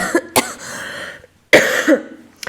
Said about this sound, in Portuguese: Vou tossir.